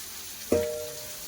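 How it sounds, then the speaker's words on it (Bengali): Fish frying in a pan gives a steady low sizzle, with a sudden louder hiss and crackle bursting up midway and then slowly easing back down. "ভেজে নিচ্ছি এটা মাছ ভাজাচ্ছে"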